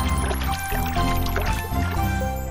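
Water runs and splashes as a banana is washed under a toy kitchen tap, a steady close trickle and pour that goes on throughout.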